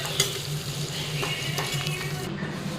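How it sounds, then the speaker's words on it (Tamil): Tomato masala sautéing in a pan: steady sizzling with occasional scraping and stirring clinks, a continuous close-up frying hiss throughout with no talking. "தக்காளி நல்லா வதக்கி அந்த ஜூஸியாக மிக்ஸ் ஆகிற வரைக்கும் வதக்கி விடணும்"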